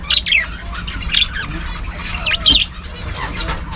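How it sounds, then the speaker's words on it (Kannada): A flock of parrots gives repeated harsh, bright squawks in uneven bursts that rise above a steady low background murmur, fairly close and with no talking. "ಗಿಳಿನ ರಾಶಿ ಇದೆ ಅದು ಗಿಳಿ"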